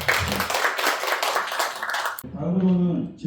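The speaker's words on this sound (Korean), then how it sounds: "첫 번째 주제 발표를 해주신 변미희 교수님께 다시 한번 박수 부탁드립니다" An audience at a Jeju adoption-awareness policy forum claps after a presentation, a dense burst of applause lasting about two seconds before cutting off into a quieter tail.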